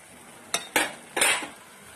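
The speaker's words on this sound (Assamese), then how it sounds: "লৰাই থাকিব নহলে তলত লাগি যাব" Matar paneer being stirred in a pan with a utensil: three distinct scraping strokes, the last longer, close and moderately loud, with no talking.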